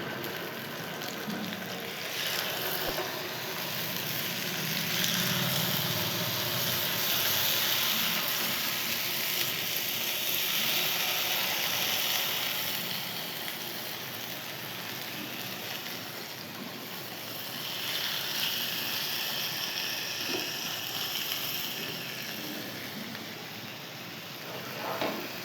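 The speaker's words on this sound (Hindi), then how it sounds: "अब हमने इसे फ्राई करना है।" Fish sizzling in hot oil in a pan for a masala fish curry, a steady, moderately loud hiss and crackle that swells and eases over time with no talk.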